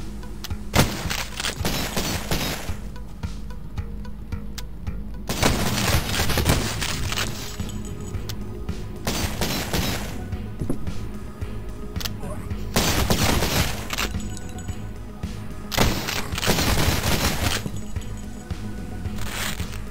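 A rifle fires in the horror shooter Cultic, sharp loud single shots in spaced clusters over a low droning ambience, with a player commenting at times between them.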